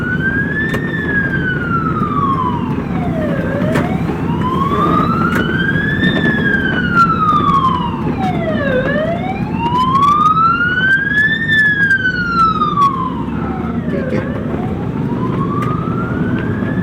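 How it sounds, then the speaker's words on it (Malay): An ambulance siren wails past a Hyundai Starex driving through town, its tone sweeping up and down in slow, regular cycles, moderately loud over a low rumble of road and engine noise. "siren ambulans, dia tak memekik ataupun bergelombang kuat lah"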